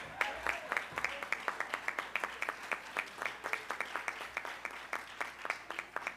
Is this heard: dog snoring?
no